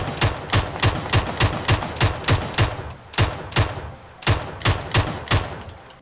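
Rapid bursts of MK47 rifle fire in a video game shooter, a dozen or so sharp, loud shots in quick rhythmic groups with short pauses between volleys.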